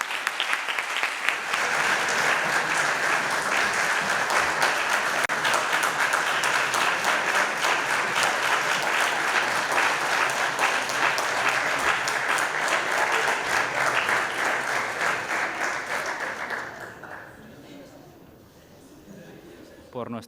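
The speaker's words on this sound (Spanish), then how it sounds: "Quiero pedir un fuertísimo aplauso para el equipo finalista" A crowd applauds the finalist team at the final of a national university tournament with loud, sustained clapping that rolls on for over fifteen seconds, then thins and fades away near the end.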